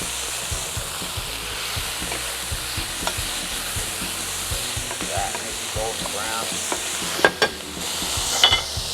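Shrimp searing in a hot pan, stirred with a utensil: a steady, close sizzle and hiss with scraping stirs, and a couple of sharper clinks near the end.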